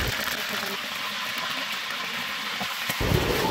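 Steady, dense sizzling and crackling of whole chickens frying in hot oil, continuous throughout, growing slightly louder near the end.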